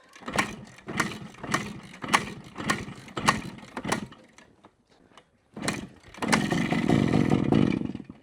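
A 125cc two-stroke motorcycle engine fires in loud, rapid revving bursts, pauses briefly into near silence, then restarts and settles into a steady, buzzing idle, heard close up with no talking.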